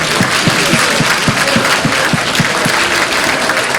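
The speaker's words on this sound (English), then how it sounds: "one more round of applause for our special performers tonight" A gala audience claps steadily and loudly for performers, a dense wash of many hands with some distinct claps standing out, continuing throughout.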